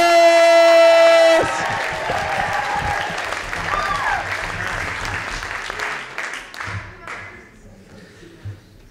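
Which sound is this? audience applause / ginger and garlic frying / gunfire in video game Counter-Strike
audience applause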